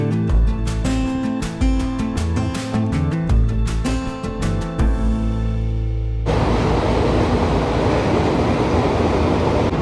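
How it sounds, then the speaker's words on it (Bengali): An AC EMU local train on the Kolkata to Mayapur route, running near Ranaghat Junction, gives a steady broadband rumble in the last few seconds after a stretch of music. "নির্ধারিত সঠিক সময় সমস্ত লেট মেকআপ করে এসি ইএমইউ লোকাল প্রবেশ করলো রানাঘাট জংশনে।"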